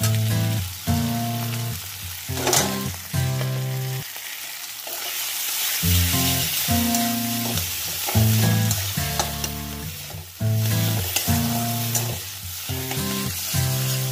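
Peanut paste frying in a pan with teasel gourd filling, sizzling loudly and steadily while a utensil stirs and clanks repeatedly against the pan.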